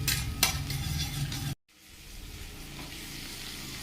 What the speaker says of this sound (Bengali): পেঁয়াজ কুচি আর লঙ্কা কুচি দিয়ে পেঁয়াজটা ভালো করে ভেজে নিচ্ছি